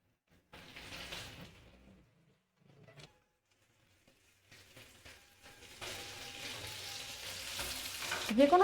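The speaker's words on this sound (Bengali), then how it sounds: "এই সর্ষের তেলটা একটুখানি গরম হয়ে গেলেই আমি মাছগুলো ভেজে নেব" Prawns frying in hot mustard oil for chingri malaikari, a soft broadband sizzle that starts in short bursts, pauses, then builds to a steady, louder hiss toward the end with a few clinks.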